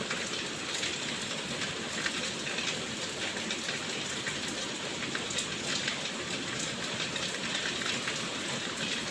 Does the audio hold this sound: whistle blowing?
no